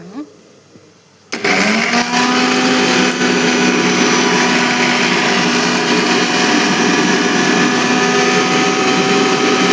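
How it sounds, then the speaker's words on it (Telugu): A mixer grinder blends garlic, coriander and coconut into paste, starting abruptly after a short pause with a loud, continuous high-pitched motor whir that stays steady for the rest of the clip. "ఒకటేసారి పేస్ట్ చేసేసుకొని మిక్సీ పట్టేసుకుని పేస్ట్ చేసుకున్నాము."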